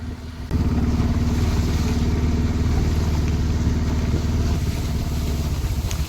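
A motorbike rides along a hill road in Nagaland toward a waterfall, its engine starting up after a brief quiet moment and then holding a steady, loud, close drone throughout.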